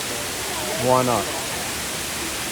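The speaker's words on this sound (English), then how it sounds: "We've seen a few waterfalls today, but this one up close is incredible." A waterfall roars up close beside a Pacific Crest Trail side path, a dense steady broadband rush that fills the whole clip, with a brief spoken remark rising over it near the middle.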